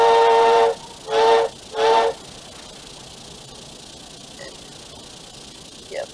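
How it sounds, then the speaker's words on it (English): Automatic steam whistle on a ship in the game Stormworks blows three loud, close blasts, a long one then two shorter, followed by quiet ambient sea noise with faint distant tones. "This is actually the first ship I've ever seen have the automatic, have the new whistle feature."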